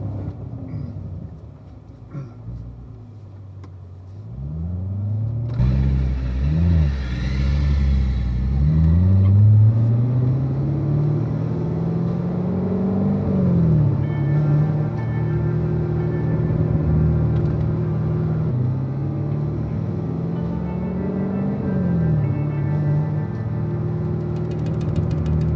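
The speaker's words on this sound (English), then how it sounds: "let's get this Corvette on camera" A Chevrolet Corvette's engine revs and rises in pitch on a mountain road near Deals Gap, a loud sustained rumble that climbs and falls through repeated gear changes as the car drives past, no voices.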